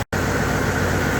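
A Ford Flareside truck engine idles with a slight lope, a close, steady low rumble with a gentle uneven pulse, briefly cut to silence at the very start.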